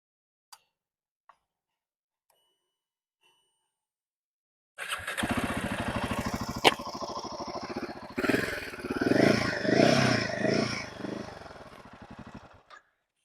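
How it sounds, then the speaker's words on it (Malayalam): A new Royal Enfield Himalayan 450 motorcycle fires up after a few faint clicks, its exhaust settling into a loud, close, throbbing idle, then rising in two revs before dropping back and shutting off, with no voices. "പിന്നെ അതിൻ്റെ എക്സോസ്റ്റ് ഒരു രക്ഷയില്ല കേട്ടോ ഞാനൊന്ന് കേൾപ്പിച്ച് തരാം"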